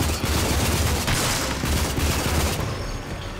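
Sustained assault rifle fire in the shooter game Rage, a dense, loud fusillade of rapid shots with booming low end, running continuously for a few seconds before easing slightly at the end, with no voices.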